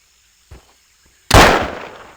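A flintlock gunshot in the video game Trespasser: a soft click, then one loud, sharp blast with a long rumbling decay, heard alone.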